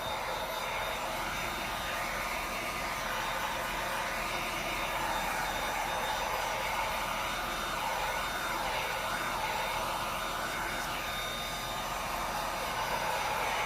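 A hair dryer blows steadily on a chalk paste farmhouse craft piece, a loud, continuous whooshing hum that runs unbroken from start to finish with no talking.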